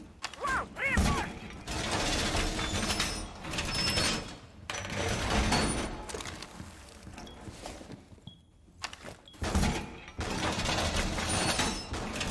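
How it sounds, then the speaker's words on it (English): Wall reinforcement in Rainbow Six Siege, a run of loud mechanical clanks, creaks and sliding metal scrapes in several bursts over about twelve seconds, with brief quieter gaps between. "Reinforced!"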